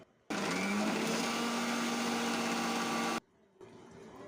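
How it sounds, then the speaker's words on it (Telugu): Mixer grinder whirs loudly as it grinds chopped raw mango, a steady motor roar with a rising pitch as the blades spin up, running for about three seconds before cutting off into quiet room sound. "మేమైతే మిక్సీ పట్టుకుంటున్నాం"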